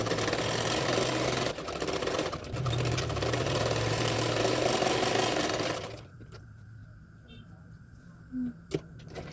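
A sewing machine runs in loud, steady bursts as it stitches the belt onto a double katori blouse, the motor hum stopping abruptly near the end and leaving a quiet room.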